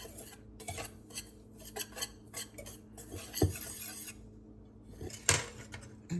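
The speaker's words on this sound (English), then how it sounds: "I want to whisk that all together because sometimes your baking powder can be a little clumpy." A whisk rattles against a bowl, mixing freshly milled flour with baking powder and salt in quick, quiet bursts of clinking strokes with brief pauses and a couple of sharper knocks.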